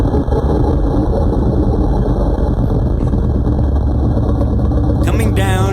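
A person coughs in a rapid, sustained rhythm imitating a helicopter's rotor chop, a loud continuous engine-like rumble that holds steady before ending in a brief burst of higher sound.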